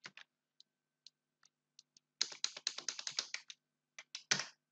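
Someone types a value on a computer keyboard, starting with a few isolated, well-spaced key clicks and then a quick, dense run of close, crisp keystrokes, alone in a quiet room.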